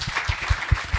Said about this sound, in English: I want to ask the audience to clap for you